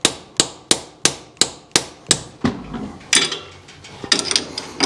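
Repeated hammer strikes on a stuck part in the engine bay of a 1967 Camaro with a small-block V8, about ten sharp metallic blows in a steady rhythm, then a few irregular clangs and scraping, close and loud.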